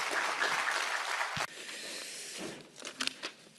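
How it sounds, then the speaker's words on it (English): Audience applause at an agricultural research symposium, welcoming a speaker to the podium: a steady wash of clapping that drops sharply, then dwindles to a few scattered claps at the end. "please welcome him with a big round of applause"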